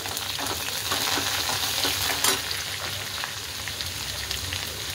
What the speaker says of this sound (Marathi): लाल मिरची टाकून घेऊया, कढीपत्ता पण टाकून घेऊया आणि तेलामध्ये कोथिंबीर पण टाकून घेऊया